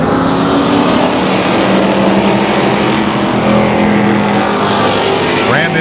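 Pro stock race cars roaring around Tucson Speedway in a steady, loud engine drone, close and continuous, with a rising whine near the end.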